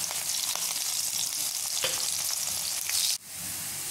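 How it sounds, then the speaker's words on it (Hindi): Steady, dense sizzling of green chillies and onions frying in hot oil for a kadhi tempering, close and continuous, cutting off abruptly near the end to a softer hiss. "हरी मिर्ची और प्याज से कड़ी से तड़का"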